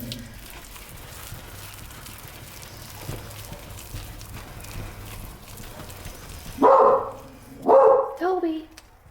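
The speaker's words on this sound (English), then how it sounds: "We'll calm the dog down" A guard dog barks at a neighbor inside a house, three loud close barks near the end following a stretch of quieter household background noise.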